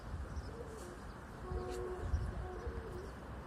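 Soft, low cooing of birds repeats a few times, faint and somewhat distant over a quiet background hum.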